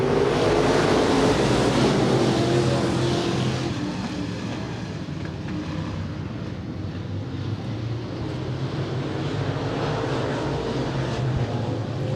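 Late model race cars roar off the start at Willamette Speedway, a dense, loud engine rumble that swells at first and then holds steady, some way off, with no voices.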